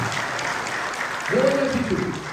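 A church congregation applauds in a steady wash of clapping while a voice carries over it.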